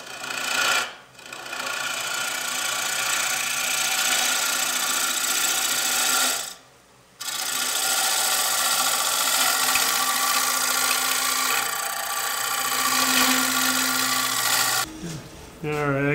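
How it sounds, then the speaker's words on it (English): A scraper cleans up a wooden bowl spinning on a lathe, giving a steady, loud rasping whir that runs almost continuously with two brief breaks, heard alone without talk. "Now I'm going to take a scraper and clean this entire area up."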